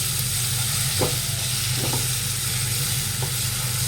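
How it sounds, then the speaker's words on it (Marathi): Masala mixed with yogurt frying in oil hisses with a constant, bright sizzle, close and steady, while a few soft stirring scrapes break through now and then. "आता छान मिक्स करून घ्यायचं तेल सुटेपर्यंत फ्राय द्यायचं"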